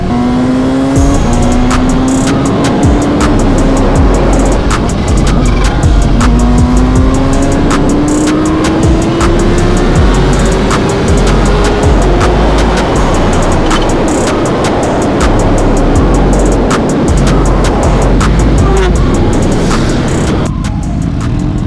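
A supercharged Kawasaki Ninja H2 motorcycle runs hard at full throttle on open streets. Its engine roars loud and close and climbs in pitch through repeated gear runs, with wind rushing the whole time.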